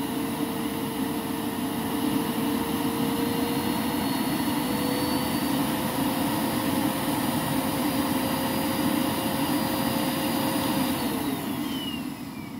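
A Lindhaus Aria Elite vacuum cleaner with a single-stage Rotafil motor runs on its lowest setting, giving a steady, continuous whine and rushing airflow, near and unbroken the whole time.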